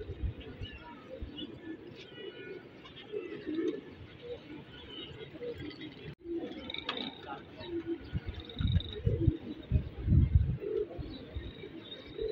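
Domestic pigeons in a Karachi loft coo repeatedly, soft and close, while someone talks over them and other birds chirp faintly in the background.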